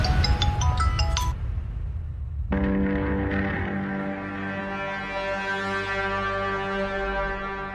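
A short melodic electronic tone pattern gives way to a sustained, harmonically rich ringing tone that repeats and continues unanswered for several seconds.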